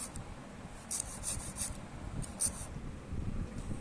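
Pieces of bel fruit shell are rubbed one by one for a garland, giving a soft, repeated scraping and rasping with a few brief, sharper bursts of grinding.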